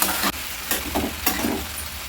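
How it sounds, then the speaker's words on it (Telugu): Two tomatoes sizzling in a hot pan while being stirred for a fenugreek-leaf dal, a loud close frying hiss with a few scraping stir strokes, no talking. "రెండు టమాటాలు తీసుకొని టమాటాలు వేసుకోండి. బాగా కలపండి."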